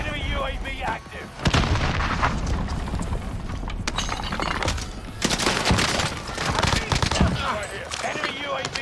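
Video game combat: a grenade blast and bursts of gunfire roar in dense, loud, broadband volleys that come and go almost continuously, with voices talking in the mix.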